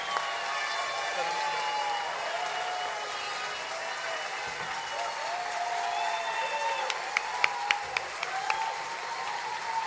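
Crowd applause at a rally for Pará's cultural community as Paulo Rocha stands to be honoured, a steady wash of clapping mixed with voices and scattered cheers.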